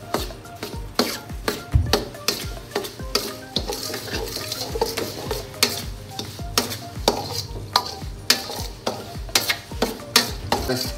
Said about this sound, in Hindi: सूजी को आपने मुसलसल हिलाते रहना ताकि नीचे ना लगे